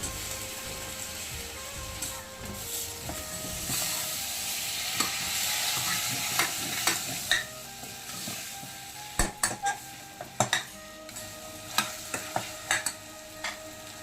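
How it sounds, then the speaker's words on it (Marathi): Cashews, peas, cauliflower and carrots fry in oil for pulao, giving a steady broadband sizzle with intermittent sharp clicks and clinks of a spoon stirring against the pan. No one speaks. "आता सर्व भाज्या हळूहळू भाजून घ्यायच्या त्याच्यात तळून"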